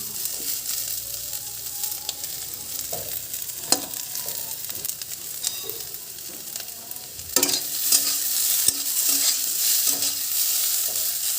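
Water lily stems sizzle steadily as they fry in a hot pan, with occasional scraping and stirring clicks over a constant frying hiss.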